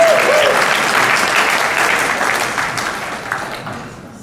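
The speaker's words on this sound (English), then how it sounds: "Let's have another round of applause for Randall" An audience at a conference gives a round of applause, a dense wash of clapping that starts loud and slowly fades out over a few seconds.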